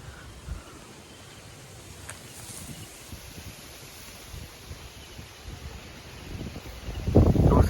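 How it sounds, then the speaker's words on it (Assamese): A strong, storm-like night wind gusts around a raised hut in a village, a low, rough rushing with rustling that swells louder toward the end. "এনেকুৱাই খাটাৰনাক বতাহ দিছে নহয়, মানে ধুমুহা অহা লেখীয়াকৈ আহিছে"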